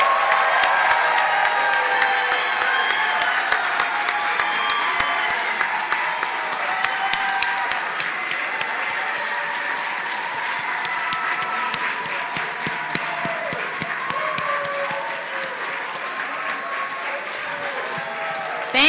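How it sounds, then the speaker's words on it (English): Sustained applause from a medical school Match Day audience, dense clapping mixed with scattered cheers filling the room steadily and loudly from start to finish. "can we give this wonderful group of students a raucous,"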